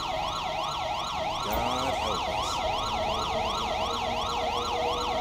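Wailing ambulance siren from the GTA 5 police mod LSPDFR, a steady repeating up-and-down yelp sounding loud and close throughout over a rumbling background, with no voices.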